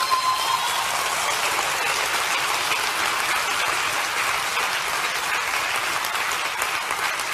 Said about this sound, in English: Shouldn't you give God a good clap